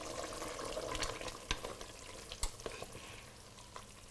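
Cuttlefish simmering in a pan for an Italian fish stew, a gentle bubbling sizzle with a few sharp clicks of a utensil against the pan, close and fairly quiet, no voices.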